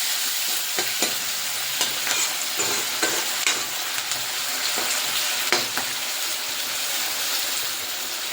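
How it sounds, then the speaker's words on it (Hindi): Tomatoes sizzling in a hot frying pan while being stirred, with a steady hiss and scattered scraping and clinking, no talking. "अब इसमें डाल देता हूँ टमाटर। इसको भी आपस में मिक्स कर देता हूँ।"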